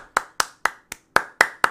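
Seven sharp hand claps in a steady, fairly quick rhythm, close and clear with no voices.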